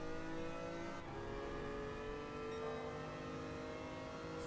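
Race car exhaust in Gran Turismo Sport, a thin, tinny engine note droning steadily and loudly throughout with slight pitch shifts, no talking.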